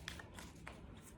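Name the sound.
shuffling tarot cards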